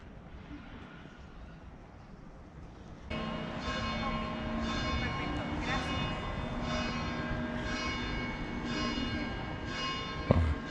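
A church tower bell tolls repeatedly in an outdoor town setting, steady evenly spaced strokes ringing out at moderate distance over street ambience.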